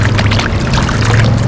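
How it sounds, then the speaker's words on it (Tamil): Steady rushing and gurgling of a flowing river in Moret-sur-Loing, France, loud and close, with a constant low rumble underneath. "அழகா போயிட்டு இருக்குது தண்ணி."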